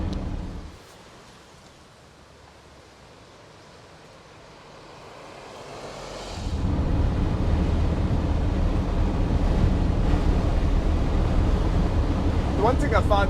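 A Mercedes W123 300D diesel car accelerating from about 60 to 80, heard from inside as a low, steady engine and road rumble that swells sharply midway and stays loud, with voices talking over it.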